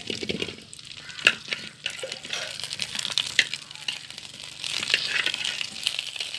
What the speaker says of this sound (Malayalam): നമുക്ക് നാരങ്ങ വാട്ടാം.